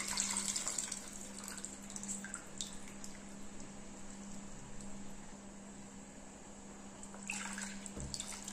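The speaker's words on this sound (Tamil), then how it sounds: "புளி தண்ணியை இதில் ஊற்றிடலாம்." Tamarind water poured into a pot of Tamarind fish curry (meen kuzhambu), a steady soft trickling wash at close range, faint and continuous with a constant low hum beneath, no talking.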